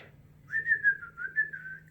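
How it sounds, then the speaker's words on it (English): A single person whistles a wavering, sustained tune during a children's zoo-themed circle time, with clear phrases rising and falling over a faint steady hum and no talking. "I hear a zookeeper whistling in my ear."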